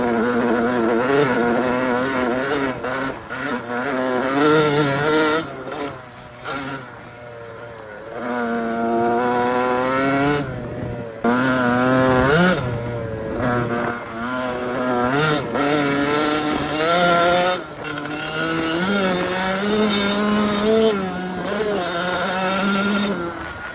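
Boat engine opened up to full throttle, a loud buzzing whine that rises and falls in pitch in repeated surges as it revs, with brief dips between runs.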